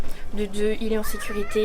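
A cat at a boarding cattery meows repeatedly in short rising calls, close and clear, while a person speaks over it.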